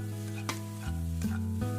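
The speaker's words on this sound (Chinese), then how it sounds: "把煎好的螺丝椒下锅，大火翻炒一下" Fried peppers sizzle and scrape in a hot wok over high heat with a few quick stir-fry strokes, close and steady over a low hum.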